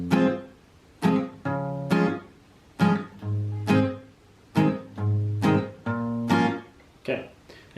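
Slow strummed chords of part 2 of a song ring from an acoustic guitar, about ten bright strokes spaced roughly a second apart, each sustaining briefly, played close and alone without speech.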